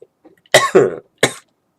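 Two or three sharp, close coughs in quick succession, loud against an otherwise quiet background.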